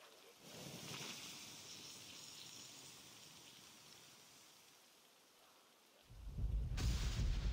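Steady rain hiss with a low rumble of thunder in the Assassin's Creed Valhalla video game, holding at moderate level before a louder, deeper surge near the end; faint game sounds sit beneath.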